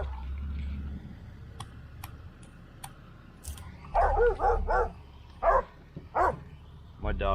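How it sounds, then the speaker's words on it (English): A dog barks in a few short bursts nearby, with scattered clicking sounds before them and a low rumbling background throughout. "My dog likes to bark at the rolling cars."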